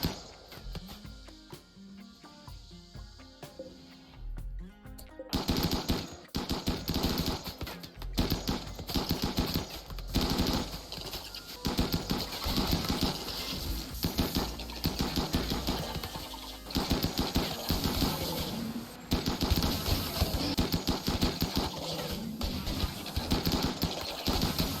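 Gunfire crackles through a RimWorld battle as colonists fight off insectoid bugs; a quiet opening gives way around five seconds in to dense, rapid, loud volleys of cracking shots that continue almost without pause.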